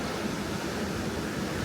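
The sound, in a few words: ocean waves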